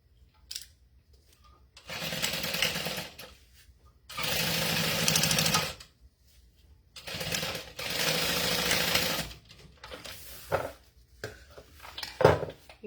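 A sewing machine stitches a Zip N Go bag in three long fast runs of rapid whirring clatter, separated by pauses with small clicks and handling noises, close up.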